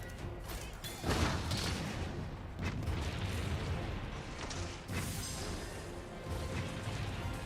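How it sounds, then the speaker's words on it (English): Cannon fire in the video game Monster Hunter Rise, with heavy booming blasts, the strongest one near the start and another midway, set against a dense, continuous roar of battle noise. "I'm using a cannon."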